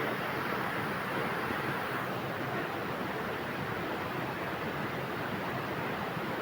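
Clear river water runs over pebbles in Kerala, a steady, full rushing wash that holds evenly for several seconds with no voices.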